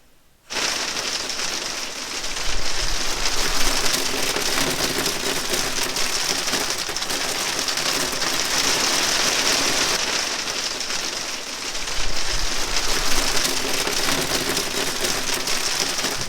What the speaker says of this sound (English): The rain still continue at least 3 or 4 days or so.